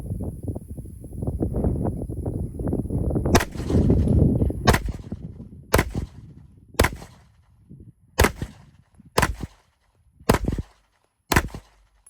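Sharp, loud pistol shots from a Kimber KDS9C double-stack 1911 ring out about eight times at roughly one-second intervals. Each crack is distinct, and steady wind noise comes before them.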